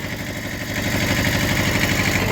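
A Kubota B5001 four-wheel-drive compact tractor idling close by, a steady low engine rumble with even rhythmic pulsing that grows slightly louder partway through.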